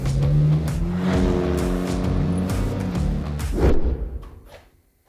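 A Porsche 550 replica with an aftermarket Porsche-style engine and Weber carburetors drives by loud and close, a steady throaty engine roar that swells briefly before fading quickly away.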